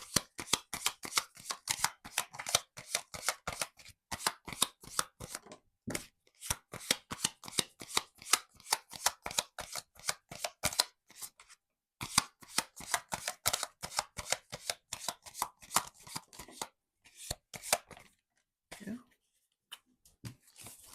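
Tarot cards are shuffled in quick, crisp riffling bursts, repeated in fast rhythmic runs close by with brief pauses, and a few cards slap down near the end.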